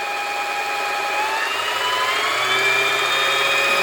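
A sewing machine winds thread onto its bobbin at full speed, a steady high motor whine that holds constant and rises slightly in pitch partway through, loud and close with no talking.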